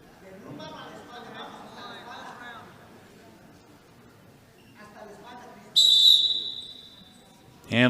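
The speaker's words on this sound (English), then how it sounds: "And the whistle sounds," A referee's whistle at a high school wrestling match blows one sharp, loud shrill blast under a commentator's ongoing play-by-play, with a brief second burst at the end.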